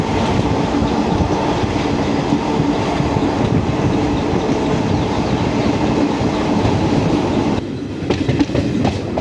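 Jan Shatabdi Express ICF passenger coaches running on rails in Kerala, heard from inside as a loud, steady rumble of wheels and carriage noise with faint clattering, shifting tone near the end as it nears a station.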